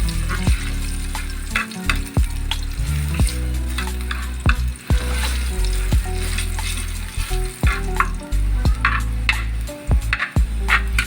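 Fish sizzles steadily as it fries in a pan until golden brown, a loud close crackle of hot oil broken by occasional clinks and stirring scrapes, with no talk over it.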